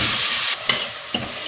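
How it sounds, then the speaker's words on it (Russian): Onion and carrot fry and get stirred in a pan for pilaf, with a steady close sizzle broken by a few sharp scraping stirs. "Выкладываем лук. И тоже слегка-слегка обжариваем."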